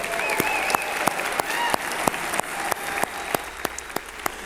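Applause from a ceremony audience for a singer at a hall of fame induction event, a steady wash of many hands with a few sharp nearby claps standing out, fairly loud and sustained throughout.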